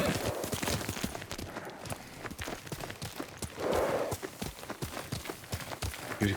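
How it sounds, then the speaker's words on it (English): Horse hooves clip-clop in a steady rhythm through the feudal Japan setting of Ghost of Tsushima, a moderately close gait with soft rustling ambience and no talk over it. "Yuriko's horse."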